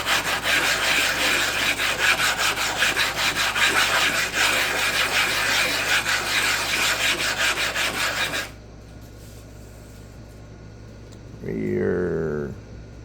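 DMD resin-bonded diamond stones are flattened by hand, a loud, continuous, rhythmic gritty rasping of stone against abrasive that stops abruptly, leaving quiet before a short voice speaks.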